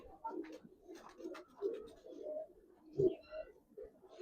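Giribaz pigeons, an old breed kept for sale, cooing in soft low repeated bursts, with a louder coo near the end and light scratchy movement around them.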